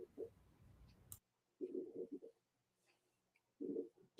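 Pigeons coo faintly in the background of an online meeting, with three short, soft, low bursts separated by near-silence.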